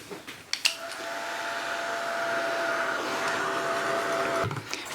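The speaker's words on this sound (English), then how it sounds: "just give it a quick blast with the heat gun" A heat gun blasts hot air onto a mixed media travel journal cover, a steady, close whirring hum running for several seconds between short clicks as it switches on and off.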